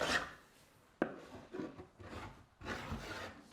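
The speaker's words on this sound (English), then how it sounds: "just zoning out and chiseling this thing" Wood being chiseled by hand: repeated scraping, rasping strokes with a sharp tap, close up and unhurried, with short pauses between strokes.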